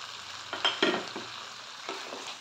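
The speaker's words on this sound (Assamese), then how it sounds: "আৰু এইখিনিও এনেকৈ ভালদৰে লৰাই মিহল কৰি মেলি ল'ম।" Fish curry with peas being stirred and fried in a pan, heard as a few brief scraping stir strokes over a soft sizzle, quiet and close.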